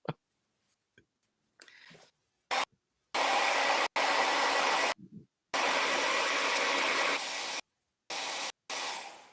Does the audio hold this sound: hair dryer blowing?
yes